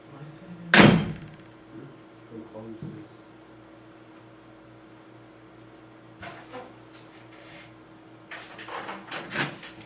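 A door is shut with one sharp close thud early on, followed by faint shuffling and handling noises and a low steady hum from the room.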